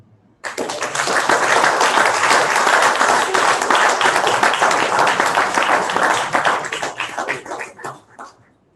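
An audience bursts into sustained applause at a construction internship program event, loud and steady for several seconds before tapering off, with faint voices mixed in.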